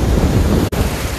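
Ocean waves wash in at a beach resort in Mexico, a loud, continuous roar of surf close by, mixed with heavy wind buffeting the microphone and a brief dropout midway.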